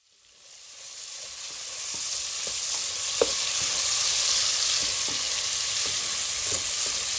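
Sliced pork intestines sauté with onion and garlic in a hot pan, a loud continuous sizzle swelling in the first seconds and holding steady, with faint scrapes of stirring beneath.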